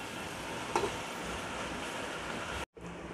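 Onions fry in oil that was reused from frying chicken, giving a steady, even sizzle in a pan with one brief stir.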